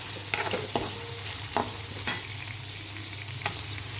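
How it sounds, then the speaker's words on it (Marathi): Chopped onion sautéing in hot tempering oil for cauliflower fritters, a steady close sizzle with sharp scraping stirs at irregular intervals, no talking. "आता आपण फोडणीला कांदा घातला आहे, तर कांदा आपण असा परतून घेऊ."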